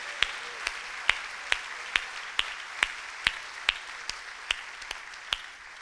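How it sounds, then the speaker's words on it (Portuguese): A church congregation claps in a slow, even beat, about a dozen sharp hand claps spaced roughly half a second apart over a low hum of the room, fading slightly at the end. "Você pode aplaudir e glorificar o nome do Senhor nesta manhã?"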